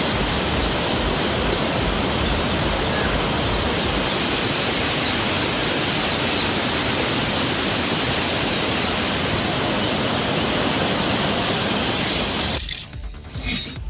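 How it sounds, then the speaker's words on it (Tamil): The flooded Kaveri river, its water roaring and rushing as a loud, dense, unbroken wash of noise that fills the whole span before it thins briefly near the end. "காவிரி ஆற்றில் கற்பனைக்கு எட்ட முடியாத அளவிற்கு கடல் போல தண்ணீர் ஆர்ப்பரித்து பாய்ந்து வருகிறது"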